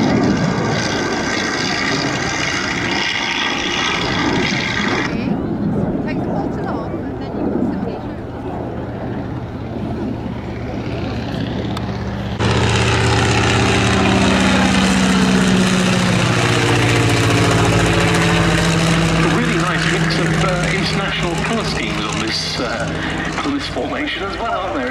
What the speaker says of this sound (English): we have the Avro Tutor from the Shuttleworth collection, the first of our training slot to get airborne